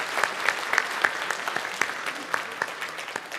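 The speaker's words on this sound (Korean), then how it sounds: "잠깐 손 드신 분들 일어서시면 우리 박수로 환영하도록 하겠습니다." A church congregation claps to welcome newcomers during a Sunday worship service, a moderate, steady patter of many hands with sharper individual claps scattered through, filling the room without talk over it.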